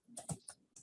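Faint keystrokes on a computer keyboard while typing text: a quick cluster of four or five soft clicks within under a second.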